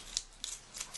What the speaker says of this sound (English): let's get a pair of scissors and I push it through the tendons